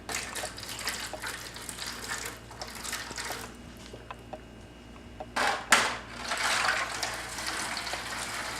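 Water pours and splashes into a tray of shaped land for a classroom beach erosion model, a running gush that eases midway, then returns in a louder burst and keeps flowing.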